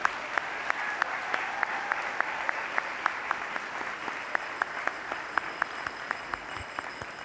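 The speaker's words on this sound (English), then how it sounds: "I think we should give a big round of applause to the culinary team." A dinner audience at a convention centre applauds the culinary team, a steady wash of clapping from a room full of people with a few sharper, closer claps standing out throughout.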